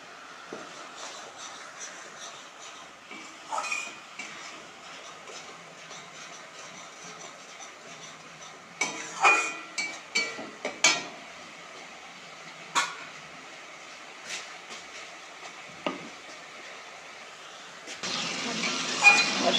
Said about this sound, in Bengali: কাঁচা লঙ্কা ফেলে দিয়ে দিচ্ছি।